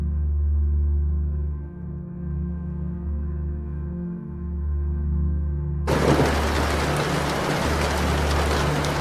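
Heavy rain bursts in suddenly partway through, after a low, steady musical drone, as in the story of Noah's flood. The downpour then hisses loudly and evenly to the end.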